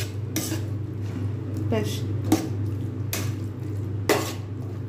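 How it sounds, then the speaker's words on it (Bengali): Spring roll filling stirred with tomato sauce in a pan, a utensil scraping and clinking against the metal in a few separate strokes over a steady low hum, with a brief word spoken. "এবারে দিয়ে আবার ফের আমি এটাকে নাড়তে থাকবো।"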